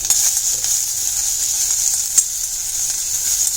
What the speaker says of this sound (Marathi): थोडं तेल घालून लाल होईपर्यंत आपल्याला परतून घ्यायचं कांदा परतताना मीठ थोडंसं